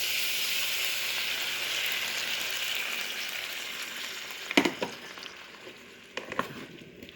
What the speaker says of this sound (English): And simmer it until it cooks.